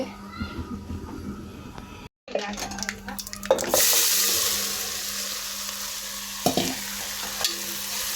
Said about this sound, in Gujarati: હાલો આપણે પહેલાં વઘાર કરી નાખીએ